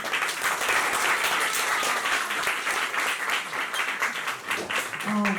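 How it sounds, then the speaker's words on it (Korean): Sustained, dense applause from a lecture audience of university students fills the room, steady and loud throughout with no break. "우리 김혜인 대표 큰 박수로"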